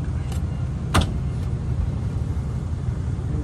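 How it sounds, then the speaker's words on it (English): A Ram 2500 truck's engine idling at a low, steady rumble, heard from inside the cab with a couple of brief clicks and knocks over the drone, fairly quiet and without talk. "we have started our engines"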